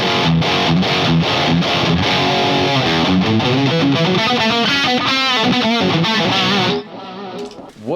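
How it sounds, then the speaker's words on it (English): Electric guitar, a Mooer MSC20 Pro, played through heavy distortion in a busy, sustained run of chords and riffs, loud and steady for nearly seven seconds before cutting off into a brief, quieter ringing tail. "If you play with distortion"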